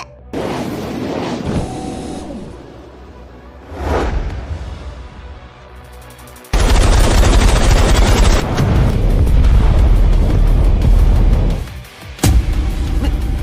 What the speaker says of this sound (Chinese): 让原始人见识一下你每秒183发的剑防炮